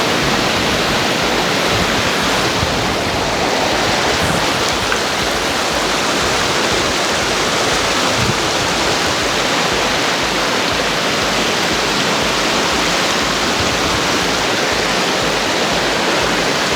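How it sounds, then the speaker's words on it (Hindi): The Besham waterfall in Pakistan gives off a loud, unbroken roar of rushing water, a dense, steady wash of noise that fills the whole span with no voices. "खैर आगे चलते हैं वाटरफॉल की तरफ।"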